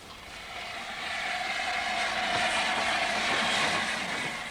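A 1936 Junkers aircraft with diesel engines drones steadily and loudly overhead, a broad continuous roar that swells slightly and holds without pause.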